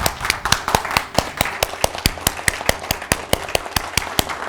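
An audience claps hands in a steady, fast rhythm at a numerology training seminar in New Delhi, with sharp, even slaps repeating for several seconds at close range and no talk over them.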